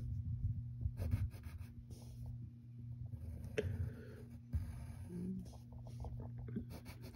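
A pencil scratches on paper while drawing cartoon eyebrows, quiet close strokes in short bursts over a faint constant hum.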